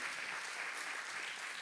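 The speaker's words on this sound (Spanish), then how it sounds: "Den un aplauso al Señor por ese hermoso salmo." Faint, steady applause from a church congregation, an even wash of many hands clapping at some distance for under two seconds.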